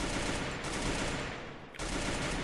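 Gunfire in the video game Free Fire, a dense sustained burst of automatic fire that briefly drops out and then resumes just as loud, fast and continuous from start to finish.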